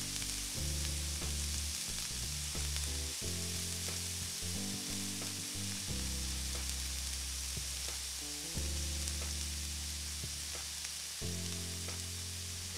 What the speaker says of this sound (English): gonna cook and stir these green beans and garlic until the garlic softens